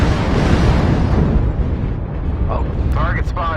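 A loud, sustained rumbling missile explosion in a MechWarrior game fills the opening seconds and then fades, with brief synthetic voice announcements following.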